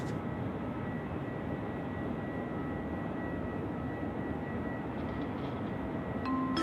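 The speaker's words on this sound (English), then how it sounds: "Oh, there we go, the Emirates Sky Cargo as well." An Emirates SkyCargo plane at Sydney Airport at night gives a steady, broad engine roar at a moderate distance, holding even throughout with no talk.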